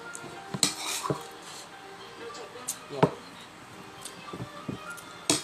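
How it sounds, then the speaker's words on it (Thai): A spoon crushes dried, deep-fried Prachuap mackerel into powder, giving scattered short clinks and scrapes against a dish at close range over faint background noise, with a voice heard between the clinks. "เอาช้อนบดให้มันเป็นผงๆอย่างนี้นะ"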